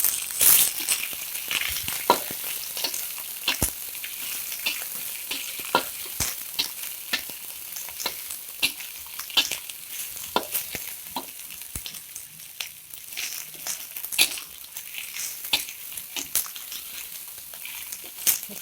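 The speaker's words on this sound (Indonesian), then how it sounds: "kita tumis bawang, maksud saya kol putih yang sudah diiris" Sliced white cabbage sautés in a hot pan with a steady, close sizzle broken by frequent scraping stirs and crackles, with no talking.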